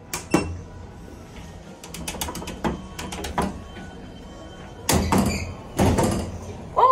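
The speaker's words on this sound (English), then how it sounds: "And here the door goes." An automatic door at Tampa International Airport opening with mechanical creaks, clunks and a sliding rumble, set against busy terminal background noise.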